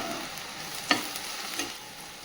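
Pointed gourd fries in a pan with a soft, steady sizzle and a couple of faint stirring clinks, heard alone with no talking.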